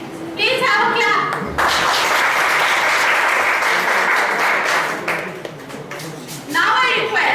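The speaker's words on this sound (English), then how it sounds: "Please have a clap." Audience at an investor awareness seminar breaks into loud, sustained clapping that swells and continues for several seconds, with brief voices at the start and end.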